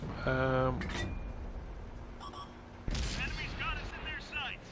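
Video-game tank cannon firing at an enemy tank's turret, a sharp loud blast followed by a ringing decay, with a second booming report near the end and someone talking between shots.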